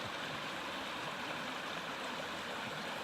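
A forest stream in Inyo National Forest runs over stones and small pebbles, a steady close broadband rush of flowing water with no pauses.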